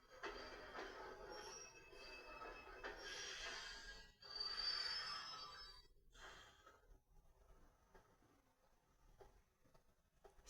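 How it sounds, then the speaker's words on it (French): An arriving train in the Kingdom Hearts 2 video game, with a steady rolling rumble and bursts of metallic wheel squeal that swell and fade as it pulls into the station, no talk over it. "Le train va entrer en gare."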